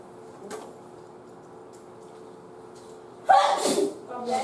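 A single sharp sneeze bursts out near the end inside a quiet classroom, preceded by faint background shuffling and a soft tap.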